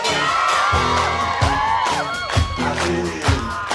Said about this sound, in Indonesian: Biar agak rame tepuk tangan ya